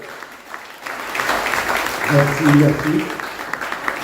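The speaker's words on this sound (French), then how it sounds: "je vous demanderai d'applaudir bien fort, s'il vous plaît, Monsieur Joël Deschamps" At the park inauguration in Sainte-Anne, Guadeloupe, an outdoor audience applauds, building to a moderate peak and then tapering off, while someone speaks briefly over the clapping.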